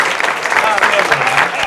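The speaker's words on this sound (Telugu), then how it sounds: "అలాగే మిస్టర్ గెటప్ సింగ్ కి give him a big round of applause." Sustained clapping from a comedy-show audience greeting a performer, dense and steady, with some voices and crowd noise mixed in.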